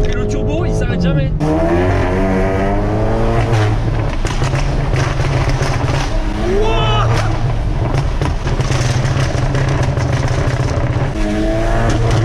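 A tuned turbocharged car accelerates hard, its engine note climbing through repeated rising sweeps with gear changes. The sound stays loud and close throughout, with tire noise and brief voices mixed in.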